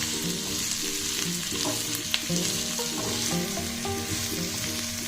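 Sliced onions fry in oil for a soybean curry, giving a continuous broadband sizzle with occasional stirring clicks, heard under steady tonal background music.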